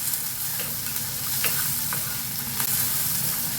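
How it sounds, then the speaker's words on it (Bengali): Dry fruits and onion being sautéed in a pot, giving a continuous close sizzle and hiss with a few faint scraping stirs and no talking. "ড্রাই ফ্রুটস আর এই পেঁয়াজ এটাকে একটু সটে করে নিচ্ছি।"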